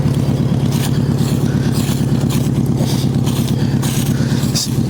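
A 1973 Volkswagen Beetle engine runs with no muffler, a loud, close, raw rumbling throb that holds steady throughout.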